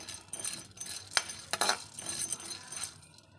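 A spoon clinks and scrapes against a pan while small lentils are stirred and dry-roasted for spice powder, giving light, irregular metallic taps and rattles that stay fairly quiet.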